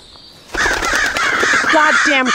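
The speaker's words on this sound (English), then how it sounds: "Goddamn crows!" Crows caw in a dark horror video game: several harsh, close caws overlap loudly in quick succession after a brief quiet start.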